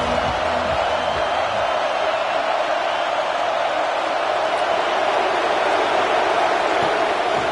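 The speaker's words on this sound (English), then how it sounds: "This crowd ready to make its presence known." A college football stadium crowd at Auburn vs UCLA roars as a steady, dense wash of noise, loud and sustained with no breaks.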